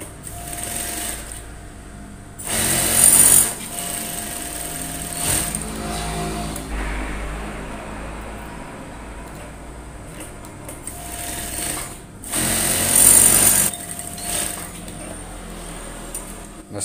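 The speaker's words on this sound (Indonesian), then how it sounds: "Sekarang jahit kupnat dulu di bagian belakangnya." A sewing machine stitches darts on the back of an overall in two short, loud, whirring bursts separated by quieter handling sounds and pauses, heard close up with no talking.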